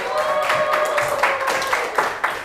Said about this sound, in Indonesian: Kasih tepuk tangan dulu dong buat temennya yang udah mau maju